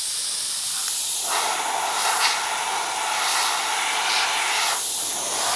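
A Gaahleri airbrush with a large nozzle sprays paint onto an RC body in a steady, close, loud hiss that runs the whole time, swelling and easing slightly as the trigger is worked, with no talking.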